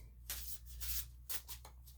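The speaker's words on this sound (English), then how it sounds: "Now what I do is I shuffle it and pick everything from right in front of you" A tarot deck is shuffled by hand at close range: soft papery riffles and rubbing bursts repeat several times over a steady low hum, with no talking.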